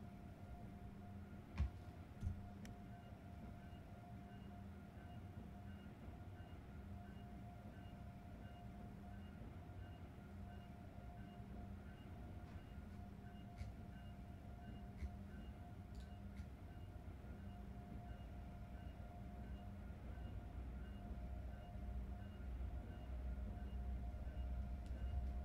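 Low steady rumble of an Amtrak Acela train running on the Providence to Boston line in Train Sim World 5, a constant rail drone with faint clicks and a tone rising slightly toward the end.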